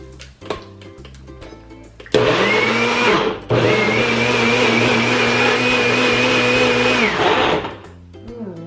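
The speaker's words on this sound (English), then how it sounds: "So we have strawberries and blueberries in here, and we're gonna puree it together" A blender purees strawberries and blueberries, starting with a loud whine, briefly cutting out, then roaring steadily for several seconds before winding down, with faint handling noises before and after.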